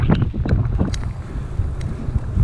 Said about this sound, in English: it's hard slog right into the wind